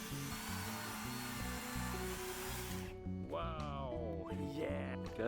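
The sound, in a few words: electric chainsaw running, powered by BLUETTI AC200MAX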